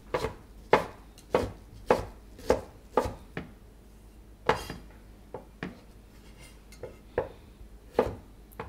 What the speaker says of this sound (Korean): 아까 데친 두릅을 쫑쫑 썰어서 넣어줄게요